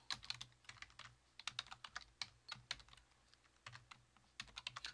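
Typing on a computer keyboard while writing code, quick bursts of clicky keystrokes with short pauses, close and fairly quiet with no talking.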